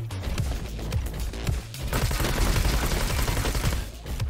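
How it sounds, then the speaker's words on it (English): Sustained machine gun fire from the Roboquest shooter game, a rapid unbroken stream of close, loud shots with a brief pause before the burst resumes and keeps going to the end. "it's a lot more fun when you have a machine gun"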